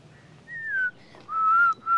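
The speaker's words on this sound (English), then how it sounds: "Whistling?" A person whistles a short tune at a resort in Gokarna, two clear sustained notes with gliding pitch separated by brief pauses, close and alone without talk.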